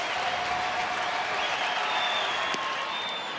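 Baseball crowd at a Angels–Rangers game in Texas cheering and applauding steadily, a dense sustained roar of claps and voices with no break, fairly loud and even throughout.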